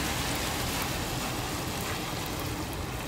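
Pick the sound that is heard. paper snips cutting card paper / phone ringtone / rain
rain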